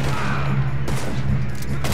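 Gunfire in Red Dead Redemption 2 during a train robbery: a few loud, close shots crack over a dense, continuous background of game noise.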